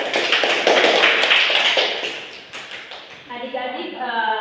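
A group of children clap their hands together at a children's pastoral lesson, a dense burst of applause under an adult voice, fading out before speech takes over.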